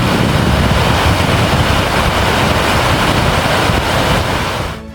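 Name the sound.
Dynjandi waterfall in Iceland rushing water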